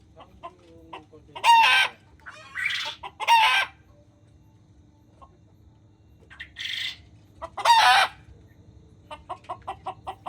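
Desi, Fayoumi and broiler chickens on an integrated poultry farm cluck and squawk in loud bursts, with a rooster crowing among them and a run of quick repeated clucks at the end over a quiet background.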